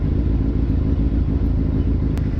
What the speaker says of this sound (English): I'm just warming up the bike right now